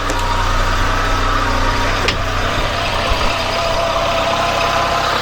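A car engine idles steadily after being jump-started with a booster pack, a constant close rumble with a few faint clicks and knocks over it and no talking.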